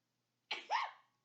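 A single quick sneeze, close and fairly soft, with a sharp burst followed by a brief voiced tail.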